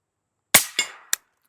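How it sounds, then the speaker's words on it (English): A single suppressed shot from an H&R rifle chambered in .300 Blackout, a sharp muffled crack followed by a quick secondary report and a short metallic clack, close and loud against outdoor silence. "Gotta love that sound, shooting suppressed 300 Blackout."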